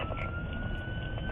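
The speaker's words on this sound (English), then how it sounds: "with sirens blaring, police raced to Dudley Drive in Shreveport" A police siren wails steadily on the way to a call in Shreveport, Louisiana, a single sustained rising tone over heavy low road rumble, continuous and moderately loud throughout.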